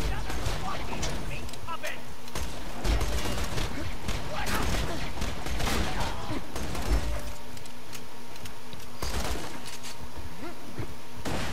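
Borderlands 2 gameplay gunfire, repeated sharp shots and rattling bursts scattered throughout, with mechanical clicks, mixed under people talking.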